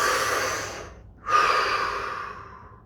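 A single deep breath, close and clear: a long drawn inhale that fades, a brief pause, then a strong exhale that tapers off slowly, with no talking.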